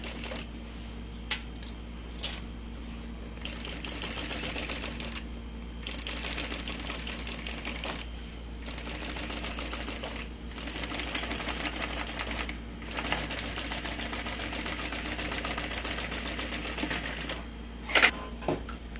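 A sewing machine stitches a long straight seam on a large diaper changing bag, a steady close rattling run with faint ticking clicks throughout and a couple of sharper knocks near the end, no voices.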